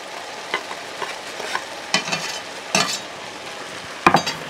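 Tomato and garlic frying in a pan for juicy pasta, a soft continuous sizzle broken by scattered scraping stirs and clacks, close and moderately loud, no talking.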